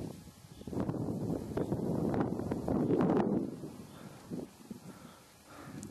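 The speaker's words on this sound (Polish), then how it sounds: "widzicie, że to się ruszy i to wiatr trochę wieje." Wind blowing outdoors in the hills near Błatnia in Brenna, gusting in rumbling low buffets against the microphone that swell and ease, with faint rustling over a few seconds.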